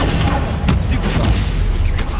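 A Stupefy stunning spell fires in Hogwarts Legacy gameplay as a short booming burst, with a dense rumbling blast of game effects around it and no voices.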